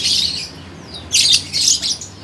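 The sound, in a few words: lovebirds squawking and chirping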